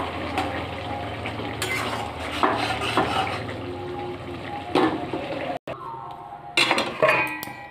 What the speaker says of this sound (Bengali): আমি বেশ কিছুটা ধনেপাতা দিয়ে নেড়ে চেড়ে নামিয়ে নেব।